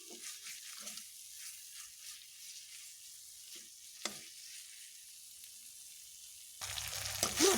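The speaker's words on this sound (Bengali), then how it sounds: "মশলাকে এইভাবে একটু টাইম দিয়েই কষিয়ে নেব" Spice masala fries in oil in a pan for a taro curry, a low steady sizzle with a brief clatter midway and a louder burst of frying near the end.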